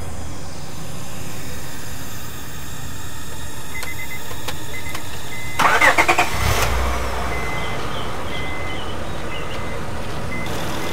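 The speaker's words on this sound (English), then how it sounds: "Start the car again." A car engine cranks and starts up, a loud burst of mechanical noise midway through a steady background hum, with faint beeping tones nearby.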